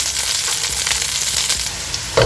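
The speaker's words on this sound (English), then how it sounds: "garlic and my green chilies and garlic on high flame. Just saute it." Garlic and green chilies sauté in hot oil over a high flame, a loud continuous sizzle and crackle with occasional stirring, and a clunk near the end.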